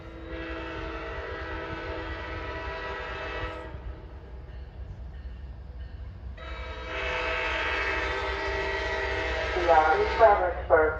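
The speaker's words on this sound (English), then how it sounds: "Let's listen to those asthmatic MP36 horns." VRE commuter train horns from an MP36 locomotive on the CSX line blow two long, wheezy, chord-like blasts separated by a short gap, loud and near, with faint rail noise under the second.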